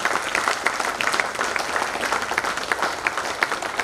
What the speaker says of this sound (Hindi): मंच पे बुलाता हूँ आपकी तालियों के साथ